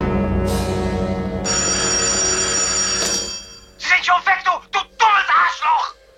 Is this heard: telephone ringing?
yes